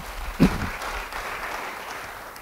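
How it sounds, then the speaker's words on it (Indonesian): A church audience applauds during a sermon, a brief burst of clapping that rises quickly and then settles into a fainter, steady patter. "Beri tepuk tangan yang baik bagi dia."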